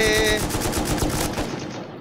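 Close, loud automatic gunfire in the survival game Rust, with a fast burst of repeated shots that fades toward the end.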